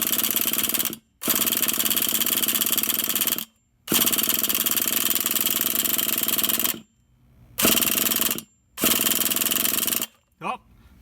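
An HPI 4.6 big-block nitro engine in an Exceed RC Mad Storm buzzes loudly in several start attempts, each a sustained rough, high-revving rattle lasting a second or a few seconds, separated by short silent gaps.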